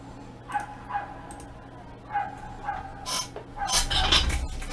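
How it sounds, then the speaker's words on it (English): A dog barks several times in short, spaced bursts at a moderate distance over a faint steady hum, and a louder rustling or handling noise comes in near the end. "there is this dog barking"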